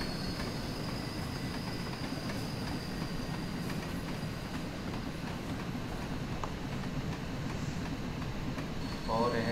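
A steam locomotive in a train simulator game runs steadily at moderate speed, with a constant rumble and faint rhythmic clatter of wheels throughout, heard alone.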